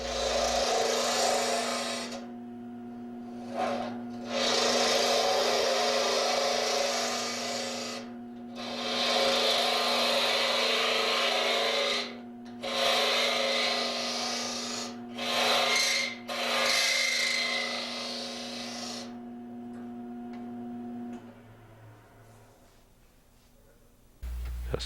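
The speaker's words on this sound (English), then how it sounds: "It's time to start hollowing again with our modified spindle gouge, boring in, then starting to hollow out." A modified spindle gouge hollows the inside of a wooden capsule box on a lathe, making repeated rasping cuts in bursts of several seconds with short pauses and the motor humming steadily underneath. It is close, and no one talks.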